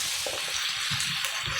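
Sliced onions frying in a pan for egg hakka noodles, a steady bright sizzle with a few soft stirring scrapes and knocks, close and continuous with no voices.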